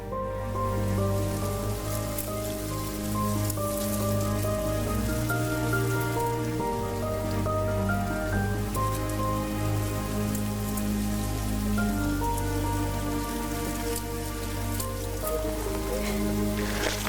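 Heavy rain pours steadily over an off-grid garden, a dense, unbroken hiss of drops hitting surfaces throughout with a faint tonal hum beneath, no voices.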